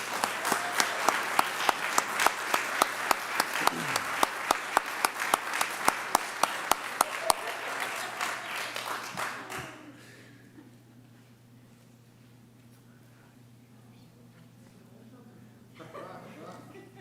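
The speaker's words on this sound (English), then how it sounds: "Please join me in a round of applause." Audience applause at a school district staff recognition ceremony, a steady burst of many hands clapping for about eight seconds before fading into a quiet room with faint background noise.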